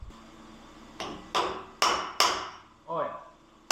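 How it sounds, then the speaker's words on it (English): A hammer strikes a punch to free the packing nut on a large hydraulic cylinder being rebuilt. Five sharp metallic blows land close by at irregular intervals of about half a second, each ringing briefly over a quiet background. "we're just going to use a punch and a hammer and see if we can get this thing to move"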